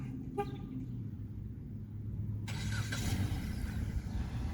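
A Jeep Patriot engine cranks and catches, settling into a steady low idle after a brief chirp near the start.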